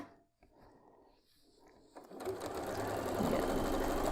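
A sewing machine stitches the last seam of a big bear paw quilt block, starting quiet with light handling noises before the motor runs steadily and loudly for the final two seconds.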